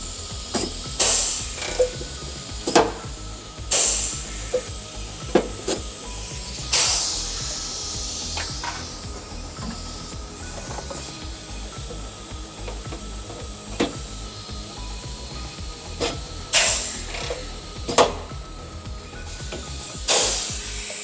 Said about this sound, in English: We've got an air-powered riveter,